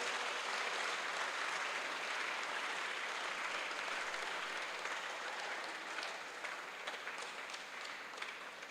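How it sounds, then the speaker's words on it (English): A seated audience applauds steadily for the Fiji ambassador at a live televised event, a dense, even wash of clapping that holds for the whole stretch and tapers slightly toward the end. "round of applause?"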